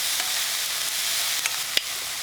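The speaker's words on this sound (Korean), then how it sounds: "양파, 파 넣고 20초 볶습니다" Onion and green onion stir-frying with Spam over high heat for kimchi fried rice, a steady broadband sizzle with a few faint clinks of a spoon or spatula, close and continuous with no talk.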